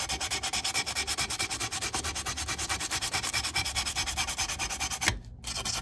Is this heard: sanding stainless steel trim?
yes